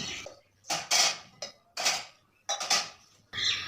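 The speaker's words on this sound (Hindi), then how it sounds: "ये बर्तन सारे जो धुल गए सुखा के मैं स्टैंड में सेट कर देती हूँ।" Freshly washed kitchen utensils and dishes being set into a drying stand: a series of sharp metallic clinks and clatters in separate bursts, close and fairly loud, with no talking.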